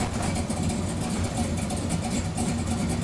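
A 440 V8 in a Plymouth Road Runner idling with an oil leak at the front cover, a steady low rumbling drone heard up close with no voices.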